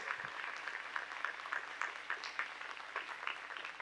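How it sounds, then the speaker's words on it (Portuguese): A church congregation at a praise and worship service applauds, a continuous dense patter of many hands clapping at moderate distance, even and sustained throughout. "Vamos dar uma salva de palmas para Jesus, bem bonito"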